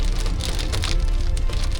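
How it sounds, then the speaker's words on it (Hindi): Steady rain falling on a hard surface, a dense continuous patter with no voices, fairly loud and close. "देखो बारिश हो रही"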